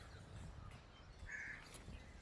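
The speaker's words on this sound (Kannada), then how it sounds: "ಕಾಗೆ ಎಲ್ಲ ಕೂಗ್ತಾವೆ." Crows caw outdoors in Ooty, one short harsh call rising partway through over a steady noisy background.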